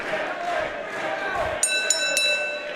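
A wrestling crowd in Riot City chants for the Dark King, Zach Sabbath, a dense, steady roar of many voices filling the arena, with a few sharp bright clanks cutting through near the end.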